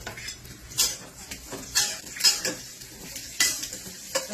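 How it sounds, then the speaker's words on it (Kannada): Bitter gourd frying in two spoons of oil in a pan, heard as a series of sharp spoon-on-pan scrapes and clinks at an irregular rhythm over a faint low sizzle, close up with no talk. "ಈಗ 2 ಸ್ಪೂನ್ ಆಯಿಲ್ ಹಾಕಿ ಈ ಹಾಗಲಕಾಯಿ ಎಲ್ಲ ಸ್ವಲ್ಪ ಈ ಎಣ್ಣೆ ಫ್ರೈ ಮಾಡ್ಕೋಬೇಕು"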